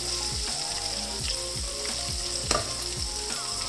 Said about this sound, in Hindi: इस साइड को भी तकरीबन 3-4 मिनट के लिए मैं हल्की आग पे फ्राई कर लेती हूँ